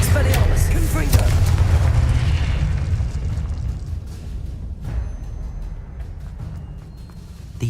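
Confringo blasting spell going off in a Hogwarts Legacy battle, heavy rumbling booms with crackling bursts, loudest at the start and slowly fading into a lingering low roar.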